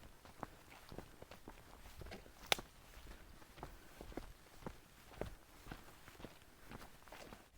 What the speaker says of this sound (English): when we walk, we get to hear our own footsteps.